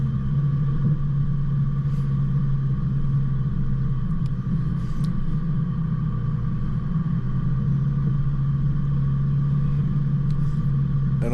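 An off-road vehicle's engine drones low and steady as it climbs a loose, gravelly hill track near Lake William Hovell, with a constant close rumble, a few faint knocks and no talking.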